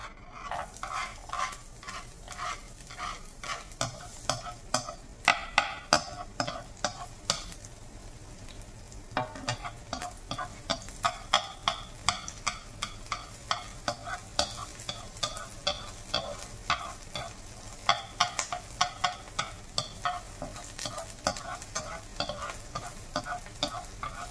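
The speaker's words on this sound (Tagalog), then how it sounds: "Kaya natin mainit. Lagay natin ang bawang." Garlic fries in hot oil in a pan, with a continuous low sizzle under a steady run of scraping stirs from a utensil. The stirs are close, regular and repeated throughout, and nobody speaks.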